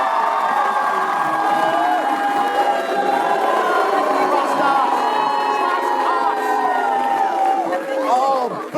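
Studio audience at a comedy panel debate show booing, a loud, sustained crowd roar of jeering voices with shouts and whoops throughout.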